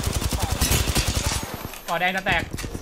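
Rapid automatic gunfire in Apex Legends, a dense run of sharp, loud shots fired in quick bursts, with an excited voice talking over the shooting.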